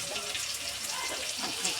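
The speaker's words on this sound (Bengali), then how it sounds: "সামান্য পরিমাণে জল দেওয়া হলো মশলাটা কষানোর জন্য" A little water is poured into spices cooking in a pan, making a steady close hiss and gush with faint bubbling that runs continuously for a couple of seconds.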